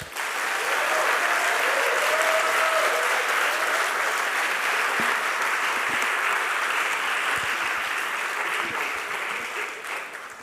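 A theatre audience at a democracy forum applauds: a broad, continuous wash of many hands clapping that holds strong for several seconds, then slowly tapers toward the end.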